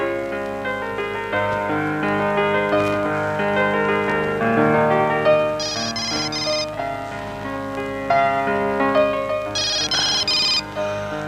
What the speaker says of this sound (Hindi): अरे भाई, किसका फोन आ गया?